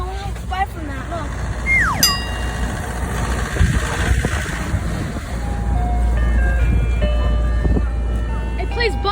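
A New York City ice cream truck plays its jingle as a steady chiming melody over an idling engine, with street noise and children and adults talking nearby.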